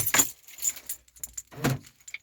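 Car keys for a Mk1 Ford Focus jangle in two bright, close bursts with a quieter rattle between and a few light clinks at the end, with no talking.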